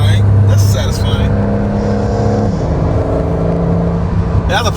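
A Porsche 911 GTS T-Hybrid engine revving past 4,000 rpm, a loud, steady drone that climbs in pitch, with a person talking over the engine.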